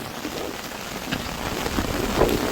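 A steady downpour of heavy rain hisses and patters loudly on surfaces nearby, with a few sharper splashes rising out of the constant wash and no one speaking.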